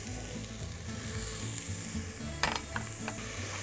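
Onion and garlic sizzle steadily in hot oil in a pan, a continuous close frying hiss with a few light clicks of stirring near the end.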